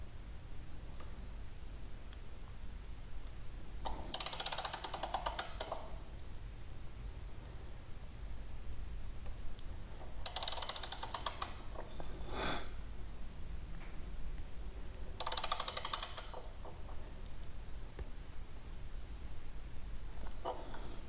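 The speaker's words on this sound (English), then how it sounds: "Just a reminder that this is a 19 millimeter wrench." A 19 mm wrench turning the bolt on a CSC SG250 motorcycle front sprocket while a second wrench holds it, three separate bursts of rapid ratcheting clicks spaced several seconds apart over a faint background.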